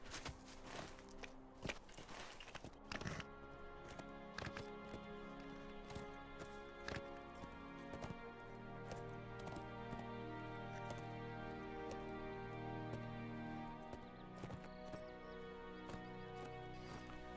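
In the video game Lord of the Rings Online, a horse's hooves clip-clop in a steady rhythm, faint under continuous game music with layered tones.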